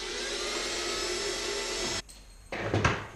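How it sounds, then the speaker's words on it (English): A power drill whines steadily for about two seconds boring a hole in a plastic car bumper, cuts out, then a short rattling burst follows as it starts again. "drill a hole"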